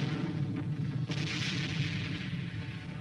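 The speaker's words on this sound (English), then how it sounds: "Mortars, workhorse of the front line, ready to lob shells up and over the enemy's defenses." Korean War–era mortars firing, a muffled boom about a second in, set within a dense, continuous roar of distant battlefield noise on old, worn footage.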